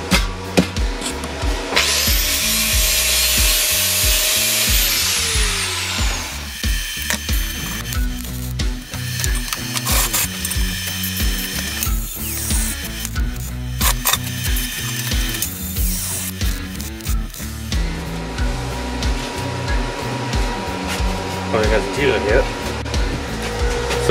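Stick electrode welding at 110 amps joining two steel wheel rims, a loud, continuous crackling and sputtering arc heavily spattering, with clanks and mechanical noise mixed in, recorded close up.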